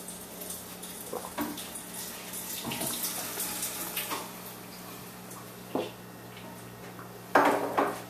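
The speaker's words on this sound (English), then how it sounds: "we're going to fill one of these bottles with your water, your tap water" Tap water running into a bottle at a sink, a steady hiss of flowing water with occasional clinks of the bottle against the fixture and a louder splash near the end.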